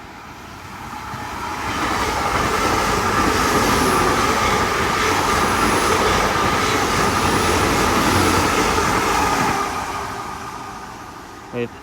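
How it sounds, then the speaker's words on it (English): A Class 800 passenger train on the Plymouth to London Paddington service passes at Dawlish Warren as a steady, loud rushing roar. It builds over about two seconds, holds, then fades near the end. "about to come through now will be a service from Plymouth to London Paddington."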